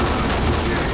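A flashbang grenade goes off during a tactical room clearing in the shooter game Ready or Not, a loud, dense burst of noise filling the whole second at close range.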